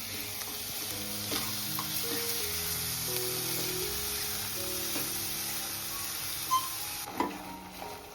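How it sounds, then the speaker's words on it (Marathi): Jaggery and grated coconut stirred together in a pan for coconut rice, a steady soft sizzle with scraping spoon strokes and faint musical tones underneath, plus a couple of sharper clinks near the end. "आता आपण गुळ टाकू गुळ पण मस्त परतून घ्यायचा पूर्णपणे आपल्याला मेल्ट करून घ्यायचं आहे"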